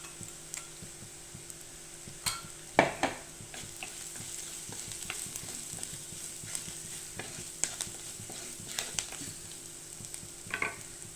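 A spoon stirs turmeric and ground red chilli powder frying in a pan, scraping and tapping in irregular strokes over a soft, constant sizzle, close and fairly quiet, with no talking.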